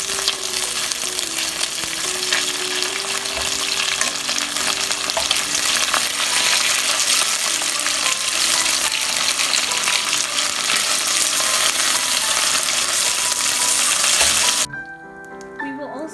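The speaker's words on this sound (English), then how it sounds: "Sear our potato." A potato sears in a frying pan for beef stew, giving a loud, dense, continuous sizzle that runs unbroken before cutting off abruptly near the end.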